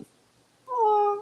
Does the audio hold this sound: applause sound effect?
no